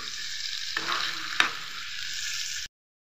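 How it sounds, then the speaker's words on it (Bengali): Spicy chicken pieces with tomato sizzle steadily in a hot pan, with a couple of sharp spoon scrapes as the mixture is stirred, before the sound cuts off abruptly. "একটু টমেটোর সঙ্গে নাড়ানাড়ি করে নেব"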